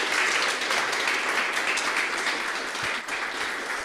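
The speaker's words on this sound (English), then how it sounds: "Let's give a round of applause for Diana." Audience applauding steadily after a fashion-resale startup pitch at a climate accelerator demo day, a dense, even wash of clapping that holds throughout and thins slightly near the end.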